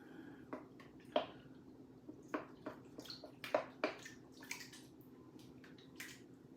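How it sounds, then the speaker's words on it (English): Water and sourdough starter being stirred by hand in a bowl for bagel dough, a string of soft wet drips, squelches and splashes at an irregular pace, close and fairly quiet, with no talk. "I'm going to empty my 500 grams of water into this bowl along with my starter, and I'm just going to stir it up"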